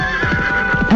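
A horse whinnies in a fairy-tale story recording, a loud, close, wavering neigh lasting about a second with a clear tonal pitch over a low rumble, no voice over it.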